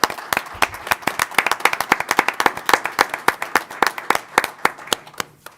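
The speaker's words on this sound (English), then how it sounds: "I'm going to stop and give you guys a round of applause for just a moment." Short round of applause from a small group at a Madison County Board of Education session honoring students, with sharp, distinct handclaps at a steady rapid rhythm, close and alone, tapering off at the end.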